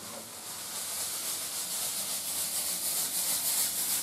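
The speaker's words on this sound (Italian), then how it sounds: "Intanto il mio soffritto soffrigge, che è una meraviglia." Soffritto sizzles in a pan on a wood-burning stove, a steady bright hissing fry that swells a little and holds close and even, no voices.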